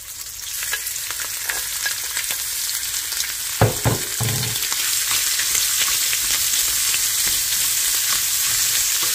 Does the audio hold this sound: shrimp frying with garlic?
yes